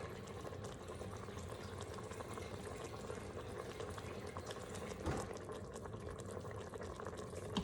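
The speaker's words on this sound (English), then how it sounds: "I'm gonna add a little bit more water to it." Water is added to a pot of veggie chicken tinga, giving a continuous gentle pouring and bubbling wash with a brief louder splash near the end, and nobody speaks over it.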